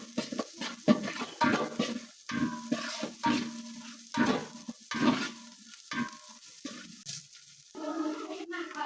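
Whole garam masala, white cardamom, cinnamon and bay leaves sizzle and fry in oil in a pot. Crackling bursts come and go with stirring, and there is a brief wet splash near the end.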